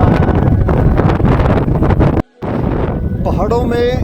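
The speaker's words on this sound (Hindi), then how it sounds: "पहाड़ की चोटी पे हवा चल रही है" Strong wind buffets the microphone on a mountain top near Chhota Kailash, a loud continuous roar that drops out for a moment, then returns with a voice speaking over it.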